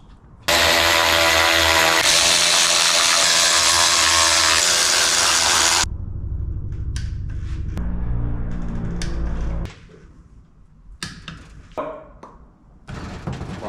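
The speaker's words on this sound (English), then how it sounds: "We're gonna put all of the case bolts back in, and we're gonna torque them down to 28 foot-pounds." Power tool driving the case bolts back into a rebuilt NP261 transfer case, torqued to 28 foot-pounds: a loud, steady high whir for about five seconds, then lower rattling tool noise and a few sharp clanks and taps.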